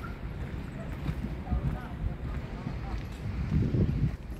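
Wind gusts steadily across the microphone at the Lourdes heritage park viewpoint, a loud low rumble and buffeting throughout, with faint voices in the background.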